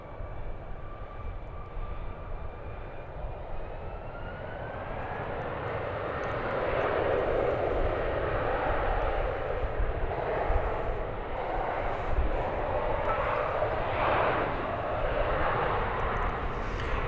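Airliner taking off at DFW Airport, a steady broad jet engine roar building from distant to louder and holding strong through the clip, with a faint radio voice early on.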